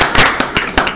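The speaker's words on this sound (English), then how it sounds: "Let's give them a round of applause." Claps from the audience at a Rotary Club meeting, sparse and uneven, with a few sharp, close, loud individual claps standing out rather than a full sustained round.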